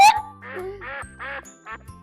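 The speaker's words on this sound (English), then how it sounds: "It sounds like a duck." A cartoonish duck quacks in a farm animal sing-along for toddlers, giving a series of short, nasal, harmonic quacks in an uneven rhythm, close and clear over a soft musical backing.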